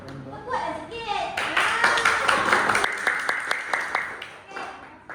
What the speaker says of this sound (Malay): pandai bagi tepukan kat Khadijah